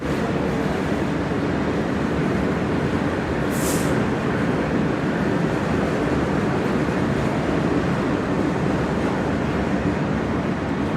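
A passenger train arriving at a station rumbles loudly and continuously nearby, a steady heavy roar of wheels and carriages with a brief hiss partway through.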